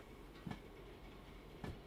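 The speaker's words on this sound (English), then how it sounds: "I'm just going to let the back of this train gently kiss that one" Railcars in Derail Valley, shunted by a BE2 locomotive, bump together gently in two soft, low thuds about a second apart over a quiet steady rumble.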